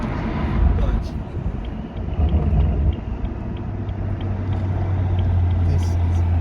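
A tuned stage 2 BMW M140i fitted with a Quicksilver exhaust accelerates, heard from inside the car as a loud, deep engine rumble that surges, eases briefly and then settles into a steady droning pull.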